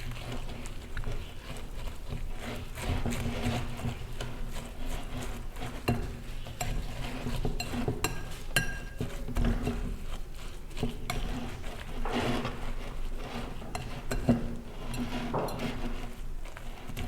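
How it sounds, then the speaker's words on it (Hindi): Gram flour naan batter whisked in a bowl with a little water, a steady scraping, stirring rhythm of utensil against bowl that runs continuously, fairly close, with faint background noise. "विक्स की मदद से इसे हम करेंगे मिक्स।"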